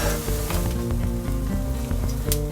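Bread pieces roasting in ghee for vegetable biryani give a steady, dense sizzle throughout, with a low tonal hum underneath, no talking.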